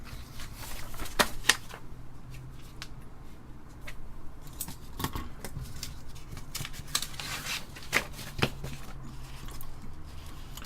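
Sheets of paper rustle and crackle as they are handled and shuffled near an H8-16 16K memory card for a Heathkit H8 computer, with scattered sharp crinkles and flicks over a low background hum.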